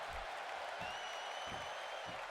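A crowd in a wrestling arena in WWE 2K16 cheers and applauds as a steady, faint wash of noise, with low thumps pulsing underneath.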